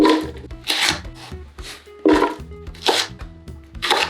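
A knife chops Cheongyang chili peppers on a cutting board in a run of close, crisp, rhythmic strokes with short gaps between bursts, no voices over them.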